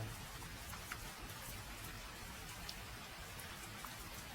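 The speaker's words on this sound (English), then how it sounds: "Just the gray and the sound of rain spreading across dead metal." Rain falling on dead metal under a gray sky, a dense, even hiss of drops with occasional sharper ticks, steady and close throughout with no voices.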